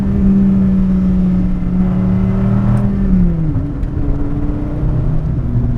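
A 2008 Dodge Viper ACR sports car with a massive engine roars as it accelerates, its loud, close engine note rising and then dropping as it shifts, with no talking over it.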